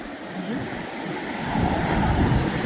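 Waves wash onto RK Beach in Visakhapatnam, a steady broad roar of surf that swells louder toward the end, with wind buffeting the microphone and no talk.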